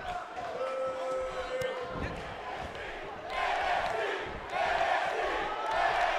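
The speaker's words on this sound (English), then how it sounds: "The crowd doesn't really give much feedback." Arena crowd in the WWE 2K18 wrestling video game, a steady roar of fans that swells louder partway through, with game commentary and effects mixed underneath.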